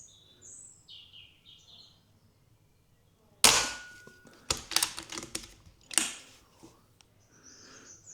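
A Kral Arms Puncher Jumbo Hi-Cap air rifle firing pellets outdoors, a sharp crack followed by several quieter clicks and impacts, with birds chirping faintly in the background.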